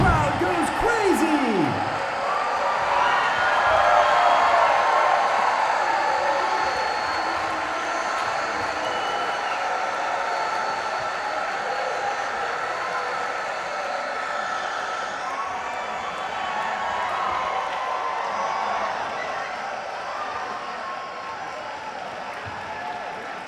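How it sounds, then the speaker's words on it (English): Crowd cheering and applauding at a charity dance event after a winning basketball shot, a loud burst of cheers and clapping that gradually settles into sustained applause, with a voice speaking over it at the start. "The crowd goes crazy!"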